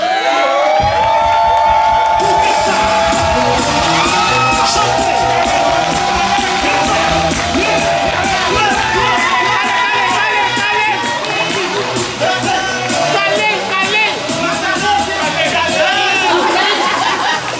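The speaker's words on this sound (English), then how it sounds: "I want everybody to stand up and give these girls a round of applause." A large standing audience cheers, yells and whoops for a group of girls at a Haitian comedy film's behind-the-scenes event, a loud, continuous crowd roar with scattered shouts and voices mixed in.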